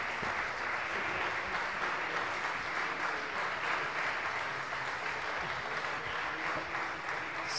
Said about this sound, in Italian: se mi applaudite in questo modo torno.